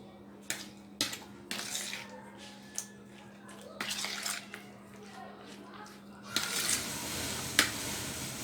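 Ingredients for a zinger burger are stirred in a bowl with soft, wet squishing and occasional clinks of a utensil on the dish, quiet and intermittent, then a louder rustling burst near the end.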